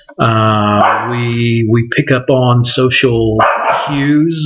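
A pet dog barks and whines repeatedly in the background of a lecture room while a person lectures over it, the barks loud, close and in quick bursts.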